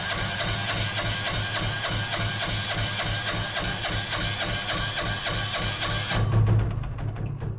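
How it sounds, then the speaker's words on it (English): An engine on an off-grid air compressor runs at full throttle, a loud steady chugging drone with a rapid mechanical rhythm that drops in tone near the end. "I can just click it on, but then it starts right up at full throttle"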